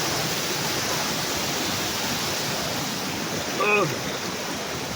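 A large natural stream rushes and splashes outdoors with a constant, full hiss of flowing water. A brief vocal sound cuts in near the end.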